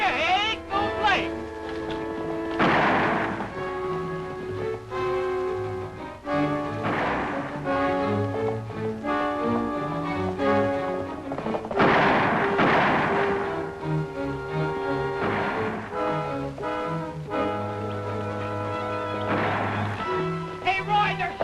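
Gunshots in a 1952 Western television episode: sharp, booming reports every few seconds, layered over a dramatic music score with voices nearby.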